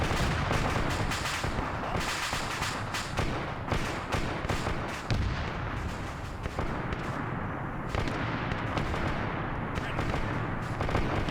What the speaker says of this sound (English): just to make sure the other sides are also having some gunfire go out for that cinematic stuff